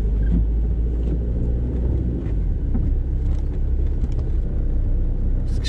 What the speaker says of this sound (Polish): Zobaczmy, jak się rusza tym niewielkim samochodzikiem.